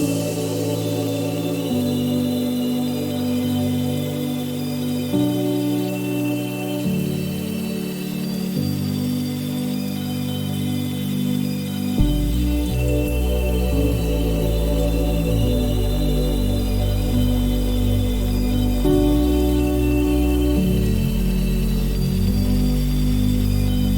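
Sustained keys playing slow changing chords in a future bass intro built in Ableton, with a deep low layer entering halfway through, steady and full with no talking.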